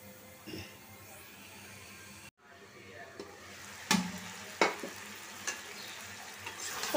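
Catla fish curry with pointed gourd sautéing in a pan, a quiet continuous sizzle with a brief drop out, then several sharp scraping stirs of a spatula.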